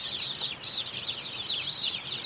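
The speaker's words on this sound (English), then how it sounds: "Baby chicks." Baby chicks cheeping in a brooder, a dense continuous chorus of high overlapping peeps from many birds, close and steady throughout, no talk.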